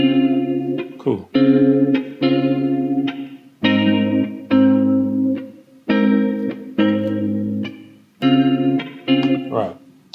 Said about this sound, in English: let's say some reverb